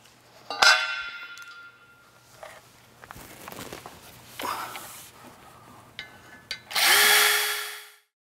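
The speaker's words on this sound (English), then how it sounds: "Let's go ahead and drill those holes so we can secure your bracket." Short bursts of a power drill whine in and out, drilling holes in a metal bracket for a travel trailer electric leveling system, with scattered clicks and handling noises, ending in one longer loud drilling run.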